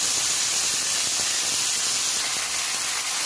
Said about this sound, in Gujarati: આપણે જે ધોઈને મૂકી હતી તે મેથી નાખી દેવાનું સરસ સાંતળી લેવાની છે એને